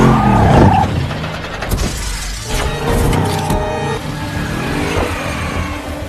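A car is snared by a wire and skids during a film chase, with a loud opening scrape, sharp crashing and shattering hits, and a rumbling engine under the impacts.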